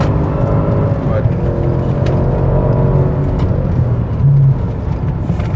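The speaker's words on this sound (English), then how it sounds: "I've never heard a turbo car that sounds this good." A Maserati Quattroporte GTS with a turbocharged engine and about 300,000 kilometres on it, heard from inside while driving as a steady, continuous engine drone that holds at an even level throughout.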